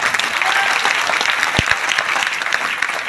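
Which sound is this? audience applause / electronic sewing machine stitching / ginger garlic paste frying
audience applause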